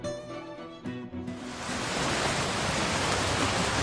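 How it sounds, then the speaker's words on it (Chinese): After a brief musical opening, water flows in a steady, rushing wash that swells and holds at a moderate level without a break. "先闻水声，再看水势"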